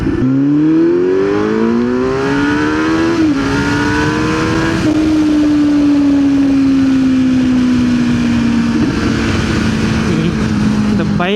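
A Kawasaki Z900 motorcycle rides along a highway, its engine droning loudly and continuously with a rising and settling pitch as it accelerates and cruises, wind rushing over it.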